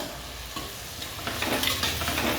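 Crab masala with tomato sizzles and crackles steadily in a hot pan while a utensil stirs and scrapes through it, with no voices.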